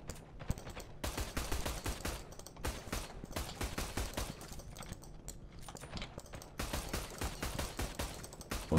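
Rapid video-game gunfire crackles in repeated bursts and volleys, close and sharp, with brief gaps between strings of shots.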